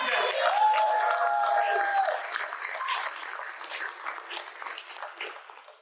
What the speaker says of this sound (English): if we could just get a big round of applause for Guides, Mrs. Guides